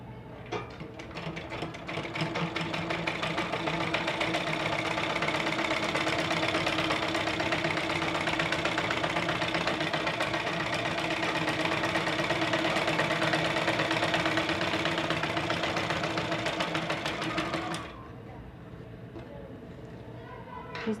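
Sewing machine stitching a folded strip and lace onto the frill of a blouse back, running steadily and loudly for about seventeen seconds before stopping, leaving a quieter hum at the end.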